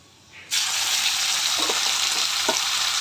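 After a quiet moment, chicken pieces drop into a pan of hot oil with browned onions and set off a sudden, loud, continuous sizzle, with a few faint stirring scrapes beneath the steady frying hiss.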